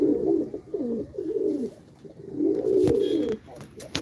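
Pigeons coo loudly and close by in repeated throaty rolling bursts, broken by short gaps and a few sharp flutters or scuffles as the birds fight.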